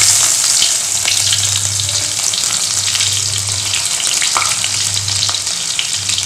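Onions sizzle and fry in hot oil with fenugreek seeds for a Kerala varutharacha fish curry, a loud continuous crackle with occasional stirring, close up and with no talk.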